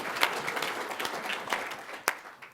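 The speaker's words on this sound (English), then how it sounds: "Jess McCabe, do applaud." An awards ceremony audience applauds, with a steady patter of many hands clapping at close range and a few sharper, louder claps standing out.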